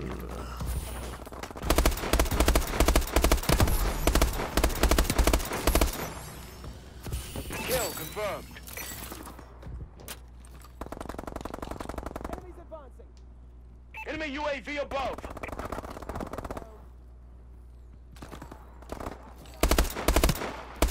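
Dense video game gunfire in a hardcore clan match, rapid automatic bursts and shots over a constant low rumble, loud and continuous with pauses, while players talk over it.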